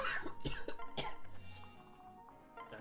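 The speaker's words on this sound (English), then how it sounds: "do not mean to cough a lot. It just keeps happening." A person coughs a few times, a cluster of sharp, close coughs near the start and then a single harsh one, followed by quieter background sound during a Fire Emblem Awakening gameplay session.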